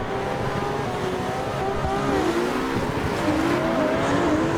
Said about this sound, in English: We are ripping these turns.